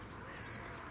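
Faint birds chirping outdoors at an allotment on a beautiful January afternoon, a few high thin tweets in quiet background air, brief and distant.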